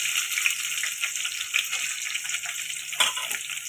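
Dried red chillies and onions fry in a pan, a steady close sizzle with crackling pops and a brief stir or clatter partway through, and no talking.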